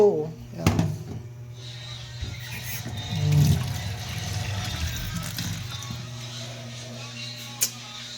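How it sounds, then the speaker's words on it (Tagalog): Tap water runs into a pot to top up a simmering soup of string beans and mung beans in a home kitchen, a steady wash of flow under a talking voice with a low background hum. "Kuha tayo tubig. Dito, gripo."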